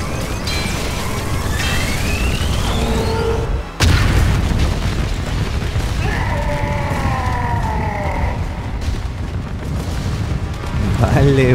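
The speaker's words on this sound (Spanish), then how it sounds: "Terrible explosión" Massive rumbling explosions during the Fortnite Chapter 5 Season 4 final live event, a continuous loud roar with a sharp new blast near four seconds, whistling and sweeping game effects layered on top.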